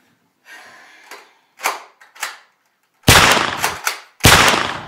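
Several sharp gunshots ring out in separate bursts, a few quieter cracks first and then louder, heavier blasts near the end, each with a short decaying tail and no voices.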